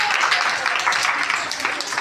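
Classmates clapping for a student who spelled a word correctly in a class 3 classroom quiz, a steady dense patter of many hands lasting about two seconds, fairly close and even throughout.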